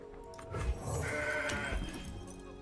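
A goat bleats from the Mountain Goat card in the Legends of Runeterra card game, a short wavering bleat standing alone and clear against quiet game sounds.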